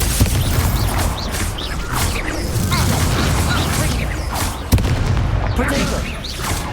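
A Confringo blasting spell goes off amid dense in-game battle din in Hogwarts Legacy, with repeated booms and crashes and a sharp hit near the end, all under loud continuous sound.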